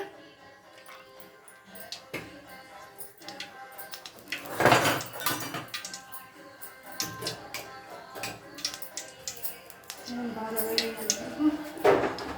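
A pan set on the stove for curry leaf powder, with oil poured in, brings metallic clatter and knocks of cookware, one loud clang midway and scattered clinks in a busy kitchen.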